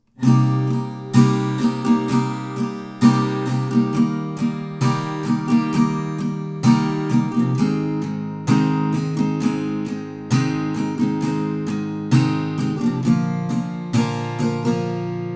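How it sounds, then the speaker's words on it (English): An acoustic guitar strums a repeating chord progression in a steady rhythm, the chords changing every few bars, played alone and close. "So the general chord progression sounds like this."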